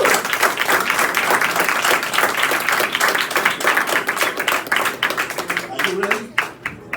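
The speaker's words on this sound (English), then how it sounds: "Let's have another round of applause for Rodgric." An open-mic poetry audience at a cafe applauds a poet with brisk, overlapping hand claps that thin out toward the end, where a few scattered claps and a brief voice remain.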